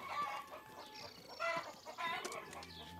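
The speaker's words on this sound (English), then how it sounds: "Caillou didn't like the chickens chasing him." Cartoon chickens cluck in quick, agitated bursts, several overlapping calls rising and falling at moderate loudness with no talk.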